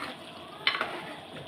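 Fish fries in oil in a pan for Chettinad fish fry, giving a steady close sizzle with a brief louder crackle partway through.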